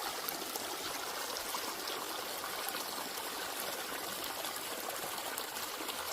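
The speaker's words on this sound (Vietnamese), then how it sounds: "Lúc này phía trước có một suối núi." A mountain stream flows steadily with a constant broadband rush of water, close and even throughout, with no voices or other sounds.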